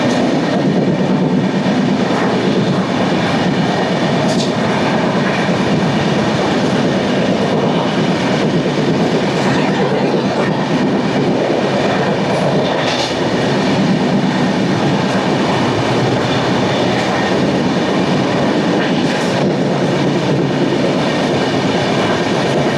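A passenger train runs through Khammam railway station at around 120–130 km/h without stopping, filling the whole stretch with a loud, unbroken roar and rattle of wheels on track.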